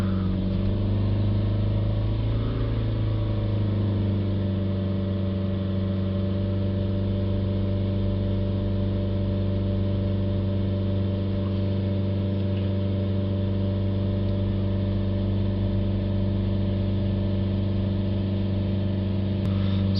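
A BMW 320d diesel engine runs steadily for about twenty seconds, a loud, even drone with a brief rise in revs near the start before settling into a constant idle hum.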